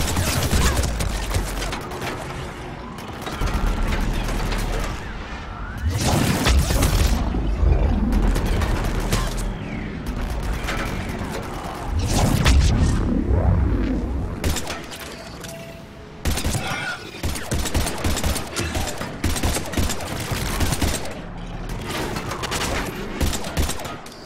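Sustained gunfire in the Mass Effect 3 video game: loud bursts of rapid automatic fire and single shots with booming impacts, coming in waves with brief lulls, then sharp repeated shots near the end.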